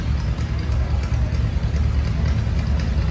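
A 1942 Farmall antique tractor rolls past in a farm machinery parade at a county 4-H fair, its engine giving a steady, loud low-pitched idle rumble that stays close and continuous throughout.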